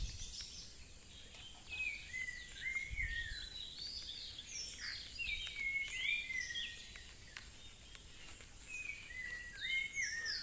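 Bird calls ring out repeatedly in an outdoor setting, a series of short whistled phrases at moderate distance over a soft, steady background hiss with faint insect-like noise, no voices.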